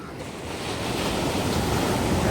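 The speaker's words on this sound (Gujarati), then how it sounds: "મોજા તમે જોવો મોજા" Rough sea waves break in a continuous heavy roar, with strong currents churning the water and wind buffeting the microphone. The surf is loud and steady throughout, with no voices.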